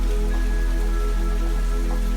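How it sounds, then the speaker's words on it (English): Gentle, steady rain falling on a surface in a quiet city at night, a soft continuous patter with a faint low hum underneath and no voices. "The rain would keep falling, a gentle lullaby that helped him sleep."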